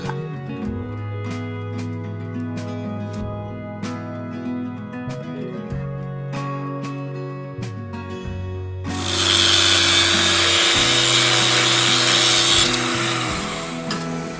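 A power tool rounds the ends of stainless steel bars during boat maintenance on a Hallberg-Rassy 312 teak toe rail: a steady motor hum runs throughout, then turns into a loud, harsh grinding rasp about two thirds of the way in.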